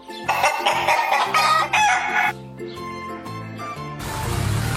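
A hen, a flightless bird raised for eggs, gives loud, repeated clucks and calls at close range over a bright musical backing.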